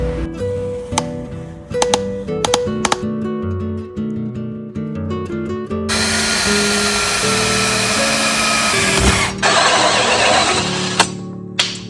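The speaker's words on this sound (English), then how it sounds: "we are going to use this to make a hole" A hammer drill bores a hole while a portable camp kitchen is built; a whining motor starts and stops in short bursts, then a long loud grinding run midway, close by with no talk.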